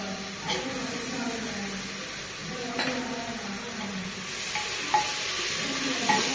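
A cup of tomatoes goes into a pan for chicken biryani and fries with a moderate hiss and sizzle, broken by a few clinks and stirring scrapes, while a voice talks intermittently over it.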